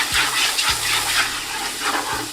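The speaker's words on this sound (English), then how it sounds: "Light touch of water, and now we're going to cook the rawness of those spices." Water splashes into a hot cooking pan of spices and tomatoes, a steady close sizzling hiss with a few soft low thumps from the pan.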